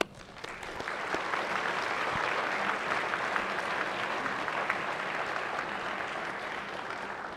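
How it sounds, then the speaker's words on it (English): Sustained applause from an audience in a state Senate chamber during a floor session, a steady wash of clapping that swells early and holds for several seconds without talk. "Could we give him a nice round of applause?"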